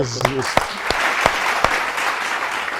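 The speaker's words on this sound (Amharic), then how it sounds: "አንድ ጭብጨባ አለኝ ስጡልኝ" A studio audience at a television talk show claps steadily for a few seconds, with a brief voice at the start and sharper individual claps standing out.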